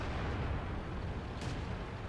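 A World of Tanks tank gun fires as a heavy, low booming rumble that fills the moment, with a dull rolling tail and no talk.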